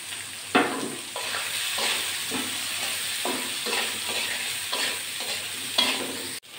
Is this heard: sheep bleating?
no